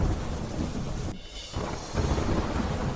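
Rain showers falling over villages near the edge of the Gir forest in Amreli, Gujarat, a steady broadband wash of rainfall with a short quieter dip midway before it resumes.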